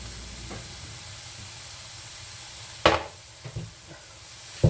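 Onions sautéing in a pan for an Italian peperonata Calabrese, a low steady sizzle broken by several sharp clinks and scrapes of stirring, one loud hit near the middle and another at the end.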